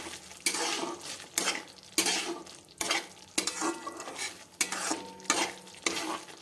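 Matar paneer curry with fresh peas being stirred in a pan, a spoon scraping the metal in regular strokes about once a second over a soft sizzle, close and clear with no talking.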